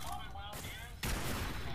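Robot gunfire in Fallout 4's Automatron add-on: loud, dense bursts of shots crackling in the foreground, growing harsher and fuller after a brief lull, with a voice faintly audible beneath.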